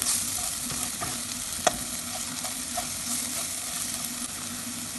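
A spoon stirs pepper powder into a village tank fish curry, with a soft continuous sizzle from the pan and a few faint scraping clicks, one slightly sharper tap partway through.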